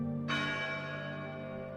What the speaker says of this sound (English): Each mournful ring echoing through the silent streets of Detroit